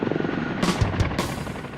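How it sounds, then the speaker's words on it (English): A military Chinook helicopter landing near casualties in Afghanistan, its heavy rotor thudding in a loud, steady, pulsing roar close by, with bursts of broadband noise. "lands the Chinook as close to the casualties as possible"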